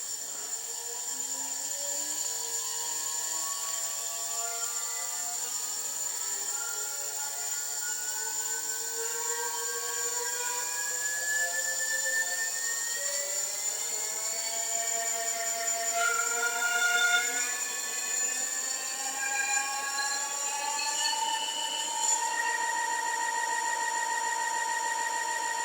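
An electric bicycle hub motor runs on a drive test, giving off a steady electric whine that slowly climbs in pitch as it spins up, with a constant hum and no voices.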